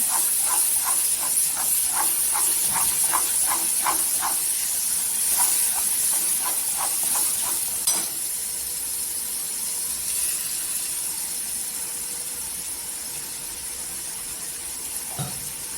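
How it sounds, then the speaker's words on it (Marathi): Masala fries in oil until the oil separates, with a bright, steady hiss, punctuated early on by a rhythmic series of soft spluttering bursts that later settle into a quieter sizzle. "तेलावर छान परतून घ्यायचा की मसाल्याला तेल सुटेपर्यंत"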